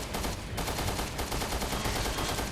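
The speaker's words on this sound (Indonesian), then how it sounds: "Ya kita tembakin aja kalau gitu." Rapid gunfire from a video game shootout with enemies, a steady dense volley of shots running loud and continuous throughout with no voices.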